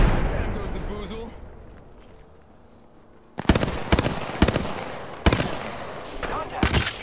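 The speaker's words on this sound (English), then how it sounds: "Shots fired and they're hitting me!" Gunfire in the video game Apex Legends: after a few quiet seconds of murmured game ambience and faint voices, loud sharp shots crack out in bursts and single reports, spaced irregularly and close up.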